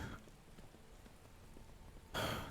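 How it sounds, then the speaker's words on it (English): Rain in the video game Skyrim, a faint steady patter of hiss that holds under the scene and then swells louder and closer near the end. "and of course the rain came back."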